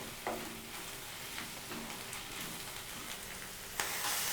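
Ginger garlic paste frying in a pan with curry leaves for an onion chicken curry, a steady sizzle with a few stirring scrapes, fairly close and with no talking.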